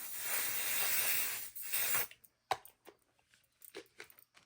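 A continuous hiss of an adhesive aerosol spray can runs for about two seconds, followed by scattered small clicks and rustles close by.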